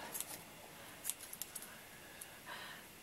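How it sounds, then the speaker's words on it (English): A few quiet, crisp scissor snips spaced irregularly, close by, in an otherwise hushed room. "And we'll snip that bit off."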